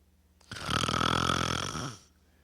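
A man imitates snoring with his voice, one long drawn-out rasping snore of about a second and a half, loud and close, with no other talk around it.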